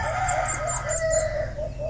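A pet limukon (dove) chick gives a steady series of short, high chirps with lower cooing tones underneath, close by and fairly clear over a soft constant background hum.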